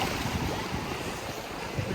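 Sea waves at Bouqana beach in Nador wash in a steady, close roar, with wind buffeting the microphone throughout.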